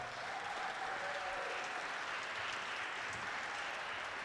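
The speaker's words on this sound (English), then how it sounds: "Please give them a round of applause." A live music audience in the Duluth Superior area gives a steady round of applause for local musicians, a dense, even wash of clapping heard from a distance with faint crowd murmur underneath.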